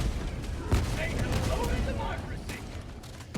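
Gunfire from Helldivers 2 combat, a dense stream of shots with one sharp loud report early, set under continuous game din and someone talking.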